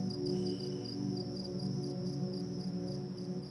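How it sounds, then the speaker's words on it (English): A continuous, even buzzing drone of insects, steady and unbroken, heard at a distance against a low background hum. "Just like cicada sound."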